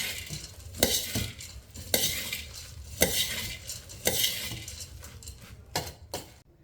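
Bhelpuri ingredients tossed together in a bowl, with a spoon scraping and clinking against the sides in regular strokes about once a second, close and clear.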